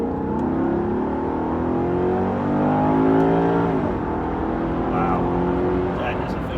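An executive sports sedan in sport mode, its exhaust rising in a loud, smooth rev that climbs steadily and then drops away sharply before settling into a steady drone.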